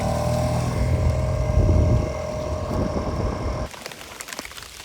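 A boat engine pushing a loaded concrete barge drones loudly, with low rumbling and a constant hum, then drops suddenly to a quieter, rougher rattle near the end.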